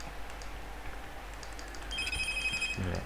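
A telephone bell rings in the middle of a Thai horror game session, its tones entering partway through and sustaining loudly over a steady background hum to the end.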